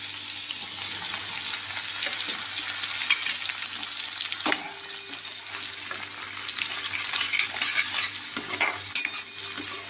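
Tempering of chillies, curry leaves and coriander frying in hot oil until crisp for chevdo, a constant close sizzle with spoon stirring and occasional scrapes against the pan throughout.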